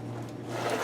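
A zipper runs along the inner pocket of a leather laptop bag, one close, steady raspy pull lasting under a second, with no talk.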